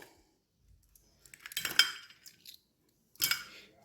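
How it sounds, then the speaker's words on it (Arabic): Chicken being mixed with spices and egg in a bowl, heard as a few soft clinks and scrapes of a utensil against the dish in short bursts, quiet and close, with no one talking. "نقلب كله كده مع بعضه زي ما انتم شايفين كده"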